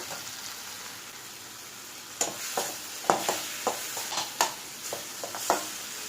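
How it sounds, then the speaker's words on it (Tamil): Onions and tomatoes sautéing in a pan for a hotel-style liver dry roast, a faint steady sizzle broken by a string of sharp stirring clicks and scrapes of a spatula against the pan, with no talk. "தக்காளியும் நல்லா வதங்கணும்"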